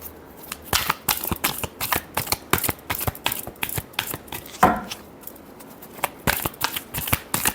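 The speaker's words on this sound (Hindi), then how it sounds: "Last shuffle." Tarot cards being riffled and shuffled close up in a quick, steady flutter of papery slaps that continues with only a brief break.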